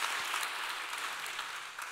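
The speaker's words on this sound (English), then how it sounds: "It feels so weird to take the applause for Tim Walz's applause line" Steady applause from a large audience, a dense wash of clapping that holds evenly throughout.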